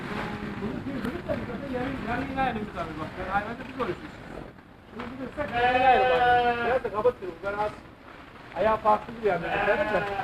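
Sheep and a ram bleat repeatedly at close range at a livestock keeper's flock, with wavering, drawn-out calls. People talk over and between the bleats.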